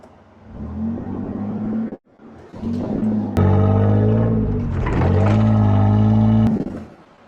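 A Ford F-150 pickup engine revs in reverse with a low, loud, close drone that cuts out briefly, then surges in steady bursts of throttle as it is given gas during a recovery.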